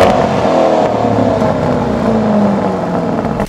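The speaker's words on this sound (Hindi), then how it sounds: "इसका एग्जॉस्ट नोट सुनाएंगे बहुत खतरनाक है" A deep, loud V8 exhaust from a Lamborghini Urus SUV drones and rises steadily in pitch as it revs, close up and continuous, with no talking.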